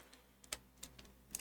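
A few quiet, scattered keystrokes click on a computer keyboard, sparse and irregular, as isolated taps rather than steady typing in an otherwise near-silent room.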